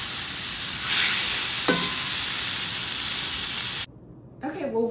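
Plant-based taco filling sizzles in a pan with sesame oil, a steady broad hiss lasting a few seconds, with a brief tonal clink partway through before the frying drops out and faint voice-like sounds follow.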